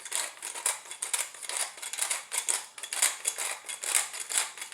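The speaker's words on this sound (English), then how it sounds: "I really like this black pepper grinder too if you don't have one." Black pepper grinder cranked by hand to grind peppercorns, a rapid rhythmic gritty crunching in quick repeated bursts, close and fairly quiet, with no voices.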